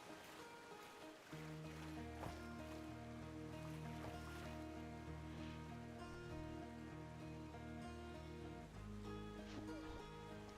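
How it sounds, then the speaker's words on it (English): Waterfall in the video game Outer Wilds rushing as a steady, soft roar beneath layered, sustained game music, faint and continuous throughout. "is that the same waterfall or is it a different waterfall?"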